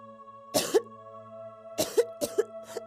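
A child coughs in short bursts, one cough and then a quick run of several more, close by against a faint steady hum.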